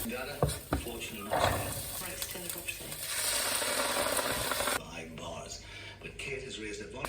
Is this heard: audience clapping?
no